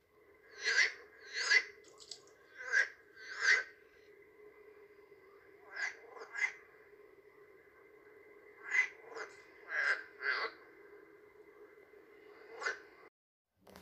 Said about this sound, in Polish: Teraz będzie żaba wodna.